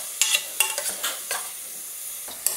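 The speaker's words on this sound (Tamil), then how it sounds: "இந்த மாதிரி நல்லா கலக்கி விடுங்க" Spoon scraping and stirring a coconut tiffin mixture in a pan, a run of close scrapes and clinks over a soft steady sizzle, with no talking.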